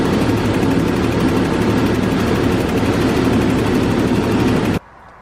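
A 1982 BMW E24 633csi six-cylinder runs at full operating temperature, a steady loud close idle drone that holds evenly and then cuts off abruptly near the end.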